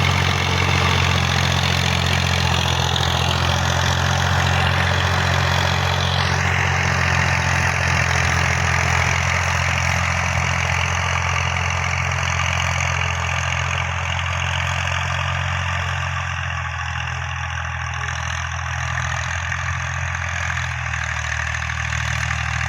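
A Massey Ferguson 240 diesel tractor in clean condition runs at a steady idle, its loud, close engine drone unbroken and slightly easing toward the end.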